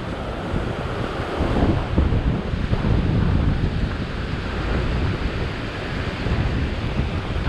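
Ocean waves wash and surge against rocks in a broad, steady roar with gusty wind buffeting close by, heard while sea fishing from a boat; continuous and fairly loud with no voices.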